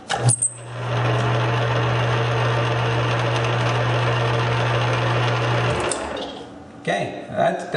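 A South Bend lathe runs in high-speed back gear after its headstock is reassembled, giving a steady, loud mechanical whir and hum. The motor starts with a clunk, runs evenly for about five seconds, then winds down to quiet clatter.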